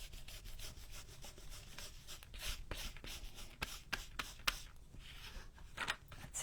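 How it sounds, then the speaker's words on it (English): A stencil brush is worked over a stencil on a junk journal tag, a close, fast series of dry scrubbing and rubbing strokes in uneven bursts, alone with no talk. "Hold it with one hand and stencil with the other because I'm not taping."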